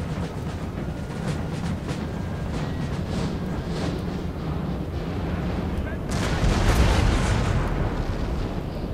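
Cannon artillery fire rolls through a Napoleon: Total War battle, a dense wash of booms and distant battlefield roar that swells louder late on, with a voice faintly present.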